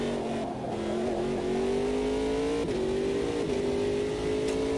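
An LMP2 prototype race car in the Automobilista 2 video game holds a steady, loud engine drone, with the pitch rising slightly through brief shift blips and no speech over it.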